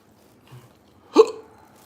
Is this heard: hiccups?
yes